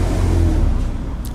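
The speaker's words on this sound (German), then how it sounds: "Es kommt gerade ein Auto." A car goes by outdoors on a quiet morning street, its loud, broad engine and tyre roar filling the moment and easing off slightly as it passes, with no voices.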